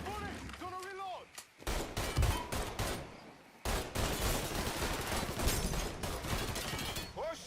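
Rapid gunfire in the Mafia 3 video game, with dense bursts of loud shots and heavy firing filling most of the scene, mixed with shouted voices of characters.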